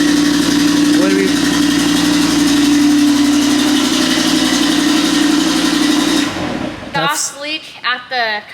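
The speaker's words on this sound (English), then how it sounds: "Exhaust leak at the coupler to the mid pipe." A 2021 Audi TT RS with new downpipe and midpipes idles with an exhaust leak at the coupler to the mid pipe, a loud, steady hum that cuts off abruptly, followed by people talking.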